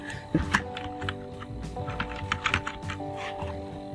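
Typing on a computer keyboard while filling in a name field on an online registration form, with quick key clicks in short bursts over a steady background hum.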